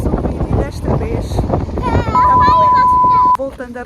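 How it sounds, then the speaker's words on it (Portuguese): Strong wind buffets the microphone with steady roaring noise throughout, while people talk underneath and a sustained electronic tone cuts in near the end. "está aqui uma ventania"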